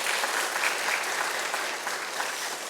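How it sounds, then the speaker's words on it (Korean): A church congregation claps warmly together at a mission training course, steady, even applause filling the room without any voices over it. "여러분 16분을 위해서 여러분 큰 박수 한번 해주시면 고맙겠습니다"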